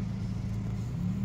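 Ferrari driving past on a street in Marbella, a low, steady engine rumble and road roar at moderate distance for about a second, fairly faint and alone without voices.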